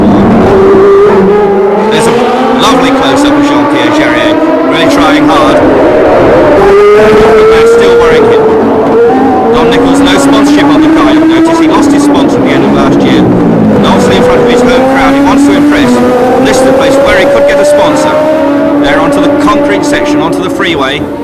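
A V12 Formula One race car at the Long Beach US Grand Prix West street circuit, its engine screaming loud and close, rising and falling through gear changes, with a commentator talking over it throughout.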